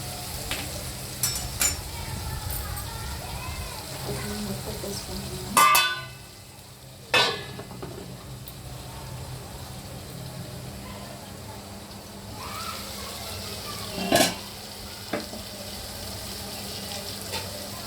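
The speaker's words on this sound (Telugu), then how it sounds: "దాంట్లో కొంచెం ఒక 4 స్పూన్లు ఆయిల్ వేసేసుకొని 2 పెద్ద ఉల్లిపాయలు కట్ చేసుకున్నాను, 4 పచ్చిమిర్చి వేగనిద్దాము." Sliced onions and green chillies fry in oil with a continuous close sizzle. A few loud clanks of a utensil against the pan break through it now and then.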